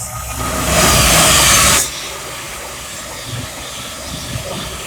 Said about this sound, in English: 700-151, working a Thameslink service from.